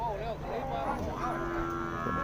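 Cattle low at an outdoor cow market in Yasothon, a wavering moo rising and falling close by amid a busy background murmur of buyers and sellers.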